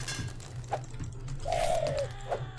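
A bird coos in the comedic game Jazzpunk, one soft, drawn-out call rising over a quiet bed of low hum and light clicks, with a couple of shorter chirps around it.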